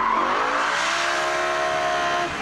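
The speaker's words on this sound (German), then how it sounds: "Mannhardt Racing hat der einzigen Familienkutsche den M5-Motor verpasst. 550 PS bringt der jetzt auf die Straße." A BMW M3 Touring fitted with a 550 hp M5 engine accelerates hard, a loud rising engine howl climbing through the revs over about two seconds, with tire noise underneath and no talking.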